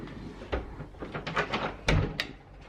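Several sharp, irregular raps hit a hotel room door from close by, with a few heavier thumps standing out among lighter knocks.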